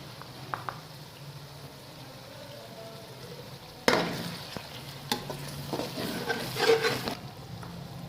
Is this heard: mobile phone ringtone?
no